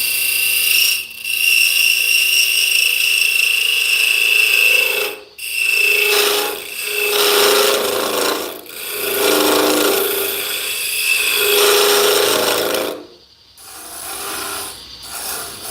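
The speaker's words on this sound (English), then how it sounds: "we've got a fresh burr on our scraper, and I'm simply going to come straight down the side and even out the side" A freshly burred card scraper rasps down the side of a cherry wood spice jar in long, steady strokes with brief pauses between them, close up and with no voices.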